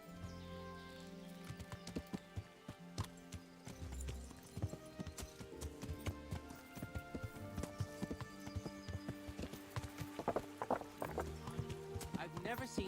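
Horse hooves clip-clop in Kingdom Come: Deliverance as a steed is mounted, a fairly steady rhythmic stepping that builds toward the end over layered game music and ambience.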